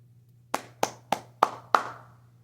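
Five sharp hand claps ring out alone at an even, unhurried pace, each crisp and close with a short reverberant tail, over a low steady hum.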